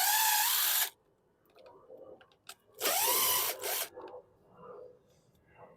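A socket driver spins out screws from the sheet metal of a 2016 Husqvarna AWD lawn mower, with two loud whirring bursts separated by quieter clicks and handling noises close by.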